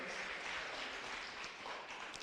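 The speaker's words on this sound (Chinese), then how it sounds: "拍手鼓励他们" A church congregation applauding during a Sunday worship service, a dense steady wash of clapping filling the whole moment without a break.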